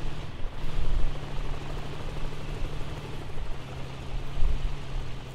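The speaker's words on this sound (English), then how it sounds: "I'm getting shot from a helicopter." Heavy continuous rotor drone and rumble of a helicopter in the Call of Duty: Black Ops 4 video game, loud and unbroken, with a low mechanical hum running beneath and no speech.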